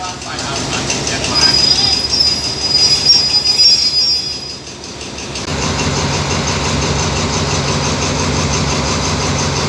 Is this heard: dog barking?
no